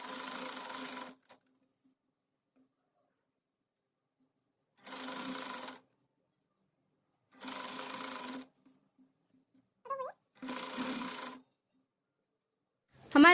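A sewing machine stitches sleeves onto a frock in four separate short runs, each about a second of fast, close mechanical rattling, separated by pauses of near silence with small handling clicks.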